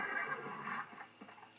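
A horse neighs in the video game Red Dead Redemption on Xbox 360, a single whinny that rises and then trails off, with soft hoof clops faintly behind it.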